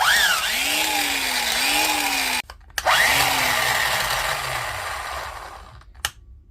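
A Dewalt angle grinder with suspected heavy brush wear runs with a whining motor that rises and wavers in pitch, cuts out abruptly, restarts, then winds down to a stop with a final click.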